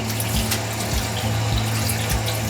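A tap runs steadily while raw chicken is washed under it in a sink, water hissing and splashing close by with a low humming tone underneath and no talk.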